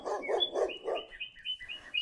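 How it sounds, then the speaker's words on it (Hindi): A dog barking as a sound effect in a children's story, four quick close barks followed by high bird chirps and tweets. "दूसरी तरफ से एक कुत्ता आया।"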